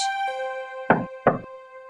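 In a Little Red Riding Hood cartoon, the wolf knocks on grandmother's door: two distinct, hollow raps about a third of a second apart, played over a sustained musical tone.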